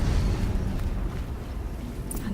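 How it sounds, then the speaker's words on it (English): Explosion in the video game Horizon Zero Dawn: a heavy, sustained low rumble and roar that fills the whole moment and slowly fades, with no talking over it. "Another explosion."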